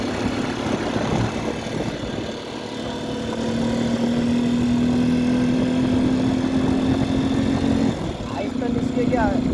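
A vehicle engine strains while stuck on an uphill road, a loud steady drone whose pitch slowly climbs and then drops, with people talking over it.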